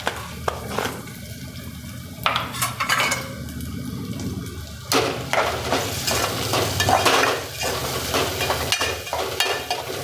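Khichdi with peanut powder, potato, turmeric and salt being stirred in a pan, with scraping and sizzling. The bursts are uneven and close, and no one speaks.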